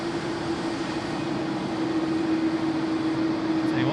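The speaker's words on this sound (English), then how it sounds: "a couple of A330s on the stream for you" An Airbus A330 jet at Sydney Airport, heard from high up as a steady distant roar with a constant whine and wind across the microphone.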